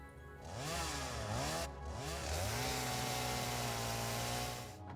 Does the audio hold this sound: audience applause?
no